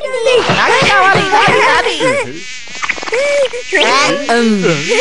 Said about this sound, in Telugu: ఈ ఈగ ఎంత చప్పుడు చేస్తా ఉంది చూడు.